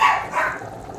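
A dog barks in a kitchen, with two short, fairly loud barks close by, the second coming about halfway through the brief moment.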